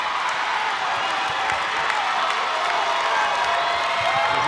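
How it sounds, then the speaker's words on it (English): Basketball crowd at a Grandview versus Southeast game cheering for Grandview, a dense steady roar of many voices with shouts and whoops rising throughout, loud and continuous without a break. "You hear the crowd rising."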